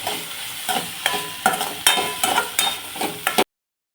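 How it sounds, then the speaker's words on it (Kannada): Coriander leaves fry in a pan for masala paddu, a crackling sizzle broken by brisk, regular spatula scrapes, close and fairly loud, cutting off abruptly near the end with no voices. "ಈಗ ಚೆನ್ನಾಗಿ ಫ್ರೈ ಮಾಡ್ಕೊತಾ ಇದ್ದೀವಿ"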